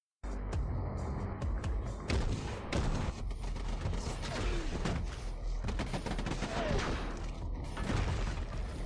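Rapid gunfire rattles through a Fallout battle scene, dense bursts and single cracks layered over a constant rumbling din, loud and continuous with no clear speech.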